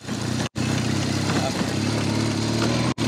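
A maxitrail motorcycle crawls up an off-road climb at near idle, its engine a steady, low, throbbing rumble close by, broken by two brief dropouts.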